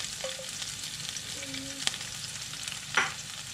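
Garlic frying in hot oil, with coriander seeds and chilies, on medium heat makes a continuous soft sizzle with a few sharp clicks and pan knocks. Faint tonal beeps sit in the background.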